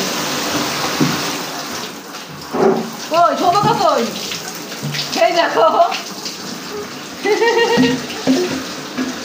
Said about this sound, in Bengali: ঝর্ণা ছেড়ে দিয়েছে।